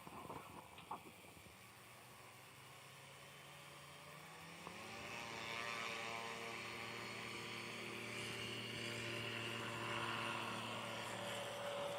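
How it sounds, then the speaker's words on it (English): A STOL airplane at a Sodbusters STOL competition practice takes off, its propeller engine revving up from a lower drone into a loud, steady full-power roar that grows closer and stronger over the clip. "Nice takeoff for Hal Stockman there."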